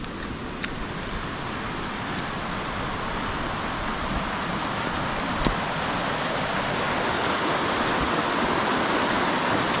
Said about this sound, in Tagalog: Dito tayo sa ilog ka-upchat